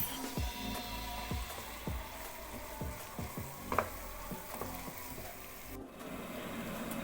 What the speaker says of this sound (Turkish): Daha sonra yemeklik soğanlarını da üstüne ekliyoruz. Ve biraz daha kavurmaya bırakıyoruz.